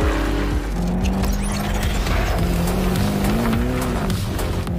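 A Lamborghini Urus SUV driving, its engine note a steady loud drone with rising and falling pitch as it accelerates and shifts, continuous throughout with no talk.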